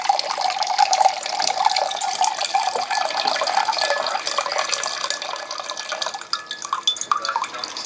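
Water runs steadily into a water filter in an off-grid tiny house kitchen, making a continuous, close splashing stream with no talk over it.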